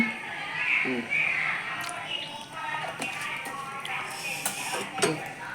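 Mushroom biryani stirred in a pressure cooker with a metal spoon, scraping and clinking in uneven strokes against the pot while someone talks throughout.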